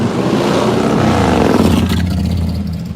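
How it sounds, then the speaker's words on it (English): A loud motorcycle engine revs on a main street, a steady, heavy roar that holds close and strong throughout before easing slightly at the end. "It's a motorcycle."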